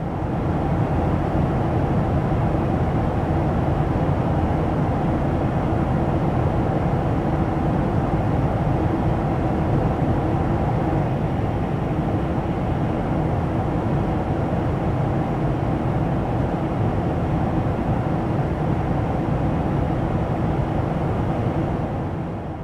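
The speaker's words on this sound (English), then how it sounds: "this is exactly what it sounds like flying on an A220" Cabin sound of an Airbus A220 in flight, in the Synaptic A220 simulator: a loud, steady, unbroken roar of engine and airflow that holds for over twenty seconds with no talk.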